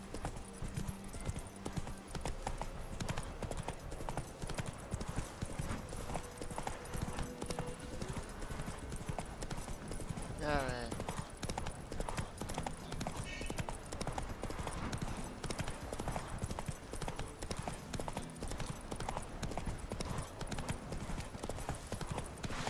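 Horse hooves galloping in The Witcher 3: Wild Hunt, a fast continuous clip-clop under game music and ambience, with a brief whinny partway through and occasional speech.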